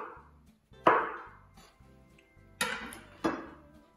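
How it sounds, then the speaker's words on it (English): Knife cutting mushrooms on a board in a home kitchen while making chicken soup, a few separate sharp chops and clacks spaced irregularly, close and clear over a quiet background. "So next, cut the mushrooms."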